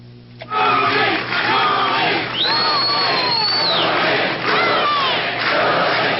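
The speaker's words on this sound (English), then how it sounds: "a very triumphant Rudy Giuliani was greeted by a chanting crowd" A chanting crowd greeting Rudy Giuliani, heard as a played recording: a loud, dense roar of many voices shouting in unison, with whoops and a high sustained yell rising above it, continuous for several seconds.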